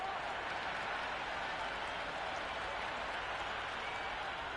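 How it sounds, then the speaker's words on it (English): A stadium crowd in the Cricket 26 video game, at a T20 World Cup match between England and New Zealand, sends up a steady roar of cheering and applause that holds at an even level throughout. "The crowd are loving every minute of this match."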